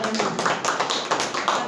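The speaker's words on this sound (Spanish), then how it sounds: "Aplauso para la Cari." A few people in a classroom clap briefly, producing a light, uneven patter of close hand claps over a short stretch, with voices faintly mixed in.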